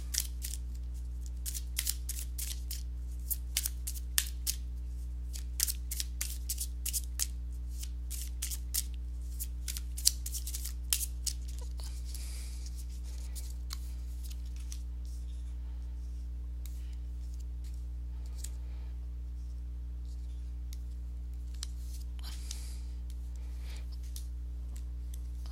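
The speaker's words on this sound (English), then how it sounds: "let me go ahead and give these cards a shuffle" Soft, rapid riffling and snapping of tarot cards repeats in bursts for a while, then gives way to quieter handling and occasional light taps, with no talking.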